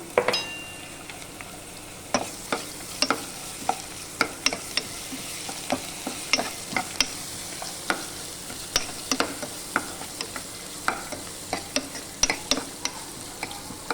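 Ginger garlic paste frying in a pan while preparing broad bean curry, a continuous low sizzle punctuated by frequent sharp clicks and scrapes from a spoon stirring against the pan.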